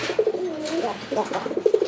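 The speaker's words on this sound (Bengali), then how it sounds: "এই নরের ডাকটা দেখতে পাচ্ছেন" A male desi gola pigeon cooing up close: a quick series of soft, throaty rolling coos over faint background noise.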